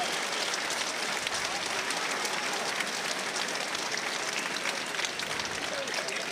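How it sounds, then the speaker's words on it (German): An audience in Düsseldorf claps and cheers from their seats after a wrestler-versus-boxer fight, steady dense applause that fills the hall without pause. "Da ist das Publikum in Düsseldorf auf jeden Fall bereit, hochzugehen von den Stühlen und zu applaudieren."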